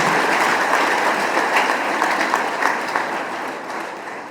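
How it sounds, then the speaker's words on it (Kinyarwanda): Sustained crowd applause for heroes at a Rwandan remembrance ceremony honouring a national hero, a dense, steady patter of many hands clapping throughout, fairly loud and close, fading slightly toward the end. "Give an round of applause to them."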